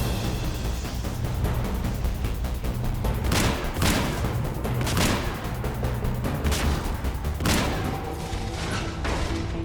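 Gunfire in Mass Effect, a dense continuous barrage of shots with several heavier booming impacts standing out at intervals.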